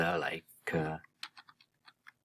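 A person speaks briefly, then a short run of about seven light keystrokes on a computer keyboard follows, quiet and close, with unevenly spaced taps.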